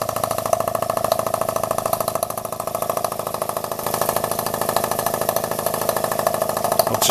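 Small uniflow steam engine with a brass or bronze finish running steadily on its own, giving a fast, even mechanical beat with a continuous rhythmic chuffing and clatter at close range.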